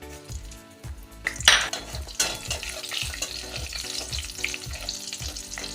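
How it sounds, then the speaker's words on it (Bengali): Black cumin seeds and green chillies tossed into hot oil in a pan, bursting into a sudden loud sizzle and then crackling steadily, with repeated metal spatula clinks against the pan nearby. "এবার কিছুটা কালো জিরে আর কাঁচা লঙ্কা ফোড়ন দিয়ে দেব।"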